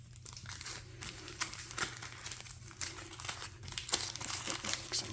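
Foil wrapping of a Lord of the Rings trading card game booster pack crinkles and tears close by, a busy run of crackling rips and crumples that keeps going without pause and has no voices over it.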